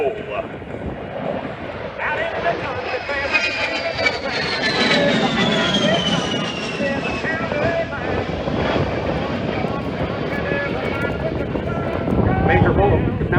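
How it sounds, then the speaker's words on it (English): A low A-10 Thunderbolt II jet flies a slow roll at an airshow, its engine roar loud and steady with a falling whine. An announcer talks over the jet throughout. "Now, from the right, the slow"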